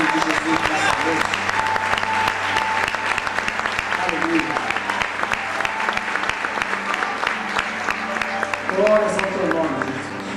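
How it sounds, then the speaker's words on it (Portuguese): A church congregation at an evening worship service breaks into loud, sustained applause in a full room, while a voice speaks and sings worship phrases over the clapping. "Vamos aplaudir o nome de Jesus nessa noite."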